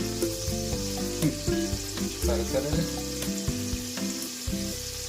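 Cashews and raisins fry in hot oil in a pan for garlic rice, giving a steady close sizzle broken by bursts of spatter and stirring scrapes.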